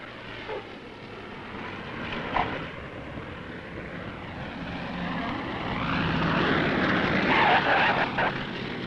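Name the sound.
propeller planes flying in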